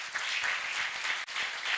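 A press conference audience for the Olís and Grill 66 handball leagues gives sponsors a round of applause, dense close clapping that carries on steadily with a brief dip near the middle.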